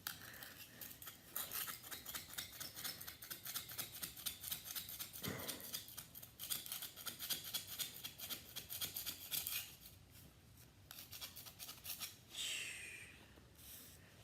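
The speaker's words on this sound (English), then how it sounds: "So I finished scraping the tape" A scraper rasps steadily across a concrete garage floor, lifting leftover duct tape during surface prep for epoxy; continuous close rhythmic scratching strokes with brief pauses, no talking.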